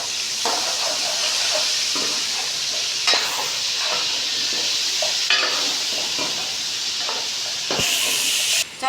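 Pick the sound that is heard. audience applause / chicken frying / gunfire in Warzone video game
chicken frying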